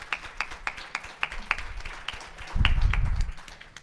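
Scattered applause at a policy congress session, a few distinct, evenly spaced claps that thicken briefly into a fuller patter near the end, with low rumbling noise underneath.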